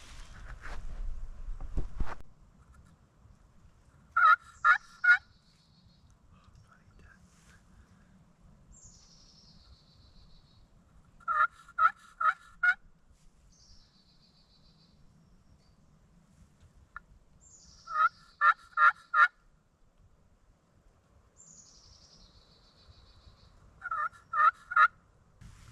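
Wild turkeys gobbling in the distance during a South Carolina hunt, four separate bursts of rapid rattling gobbles spaced several seconds apart, faint over a quiet outdoor background with a few rustling footsteps at the start.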